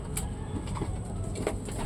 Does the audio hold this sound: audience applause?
no